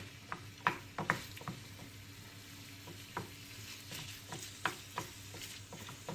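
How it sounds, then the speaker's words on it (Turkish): Lean minced meat for içli köfte frying in a pan without oil, a soft steady sizzle with scattered clicks and taps of stirring, quiet and close. "Kıymamız kavruluyor"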